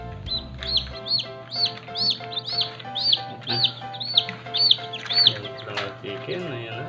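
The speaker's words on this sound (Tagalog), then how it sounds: "Ayan, chicken." Newly hatched chicks in a brooder fresh from an automatic incubator give loud, repeated high peeping chirps in a steady rhythm, close up, over a low constant hum.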